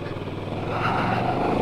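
Moto Morini X-Cape motorcycle engine droning steadily while riding on a rough road, a close, continuous hum that swells slightly.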